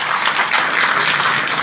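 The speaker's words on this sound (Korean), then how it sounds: "박수 한번 보내주시고요" Steady applause from an audience at a Korean book launch event, a dense, even wash of clapping that fills the whole moment without pause.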